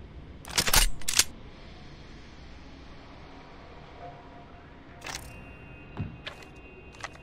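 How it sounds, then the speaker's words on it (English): Weapon reloading in the Apex Legends Mobile video game, a few sharp mechanical clicks and clacks in quick pairs, separated by quiet gaps, close and crisp. "Reloading."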